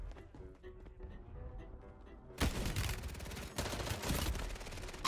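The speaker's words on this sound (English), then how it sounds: "Quick scope sniper." Quick-scope sniper rifle fire in the video game Warzone, a sudden loud burst of gunfire that cuts in abruptly midway and stays dense and harsh with further cracks.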